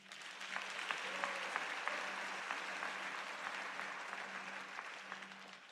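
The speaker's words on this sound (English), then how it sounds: "the handsomeness that I see in the house deserves a good round of applause" Sustained applause from a graduation ceremony audience at Northlink College, a steady wash of many hands clapping at moderate distance, with a faint steady hum beneath and no speech.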